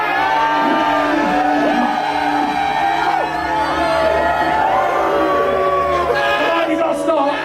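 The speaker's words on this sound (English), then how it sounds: "You boo at the back and cheer at the front." Stage show crowd at Blackpool Pleasure Beach booing from the back and cheering from the front, a loud dense mass of drawn-out jeers, whoops and shouts rising together.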